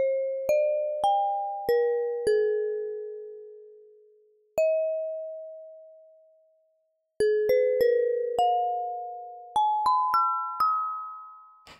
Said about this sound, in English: you can hopefully hear that it's kind of sounding like a nice glass bell sound